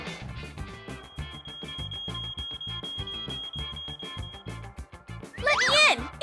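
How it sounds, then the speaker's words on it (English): A fire alarm sounds in a club as a steady high electronic tone held for several seconds beneath loud, pounding music, followed by a burst of shrill, excited voices near the end. "Fire alarm! Hurry up!"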